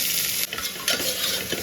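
Chopped onion and tomato hit a hot pan together and are stirred, giving a loud, close hissing sizzle with scraping stir strokes.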